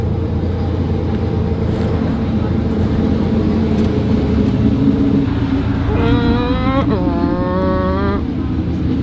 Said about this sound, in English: That's the sound of a V8.